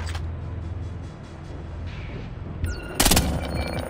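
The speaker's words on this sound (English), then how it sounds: "Taking the shot." A gunshot rings out in the video game Splinter Cell Blacklist, a sharp loud crack near the end over a steady low game ambience and faint background rumble.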